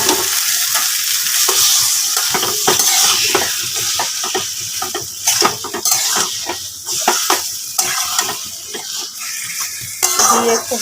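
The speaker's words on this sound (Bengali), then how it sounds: "দিয়ে খুব ভালোভাবে কিন্তু মিশিয়ে নিতে হবে মশলার সাথে কচুর শাকটা।" Boiled taro greens are stirred into spices frying in a pan for a vegetarian dish with chickpeas: loud, steady sizzling with repeated scraping and stirring strokes close up.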